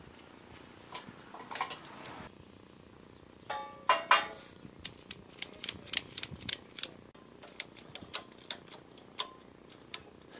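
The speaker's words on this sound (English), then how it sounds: "I'm going to use a ratchet strap to pull this and askew and slightly tweak these until it's straight" A ratchet strap clicks repeatedly as it is cranked tight on a Harbor Freight 20-ton shop press, a steady run of sharp, close ticks with a few clunks of metal at the start.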